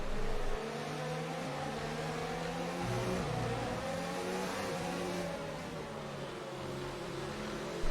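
An F1 race car in a Formula 1 video game accelerates on hard tyres, its engine note holding a steady high whine with rising harmonic sweeps that swell slightly midway, loud and continuous with no talk.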